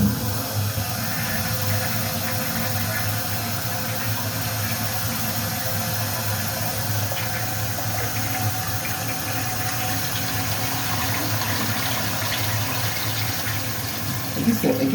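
A flushometer valve on a toilet, just fitted with a new diaphragm, sends a continuous rushing wash of water through the bowl at close range, holding steady for the whole span without letting up.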